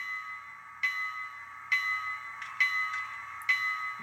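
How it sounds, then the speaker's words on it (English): The bell sound of a Bachmann N scale K4 model steam locomotive dings five times at steady intervals, each strike bright and ringing, over a soft continuous hum. "F1 is bell."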